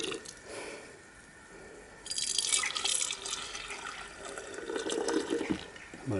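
Liquid is poured into a jar during an aluminium-based gold recovery process, a splashing trickle that starts, fades, then swells again in two fairly close pours.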